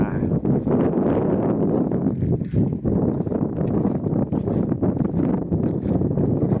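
Steady wind gusting across open green rice paddies beside a long irrigation canal, roaring continuously into the microphone with rustling noise throughout.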